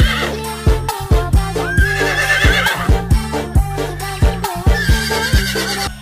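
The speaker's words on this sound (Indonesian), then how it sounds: "Wadidaw, ini apa teman-teman? Waduh, ini sepertinya kuda." A horse whinnies loudly over a rhythmic, repeating musical beat, the neighing rising and falling across the whole stretch.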